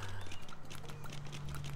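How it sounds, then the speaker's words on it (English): A goat skips in the Goat Simulator video game, its hooves making quick, light clip-clop taps in a rapid, uneven rhythm over a low steady hum. "you can make your goat skip when he decides to stop being a dick"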